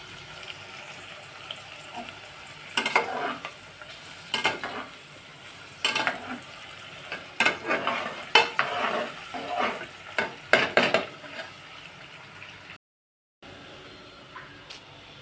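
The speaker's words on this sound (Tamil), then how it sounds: "கிண்டிகிட்டு இருக்க பாருங்க காய்ஸ் தக்காளி போட்டாச்சு இப்போ இஞ்சி பூண்டு போட்டாச்சு" A spoon scrapes and stirs tomato, ginger and garlic frying in a pan for mutton biryani, in irregular bursts of clatter over a quiet low sizzle, close and fairly soft.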